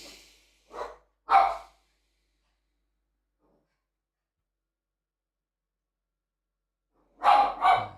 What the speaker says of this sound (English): my guard dog. I'm sorry. There's no way I can shut him up.